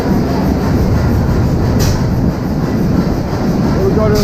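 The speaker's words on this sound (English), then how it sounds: "It's a 2-cycle, 3-cylinder Fairbanks and Moores with about an 8-foot flywheel on it." A two-cycle, three-cylinder Fairbanks Morse generator engine with a large eight-foot flywheel runs steadily at a tractor show, a loud continuous low rumble that holds level throughout, with no clear talk over it.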